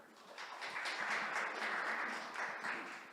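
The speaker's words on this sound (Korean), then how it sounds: "큰 박수 부탁드리겠습니다" An audience at an academic forum on sports heritage gives a brief round of clapping for a university professor, a short burst of hand claps with a loose, uneven rhythm.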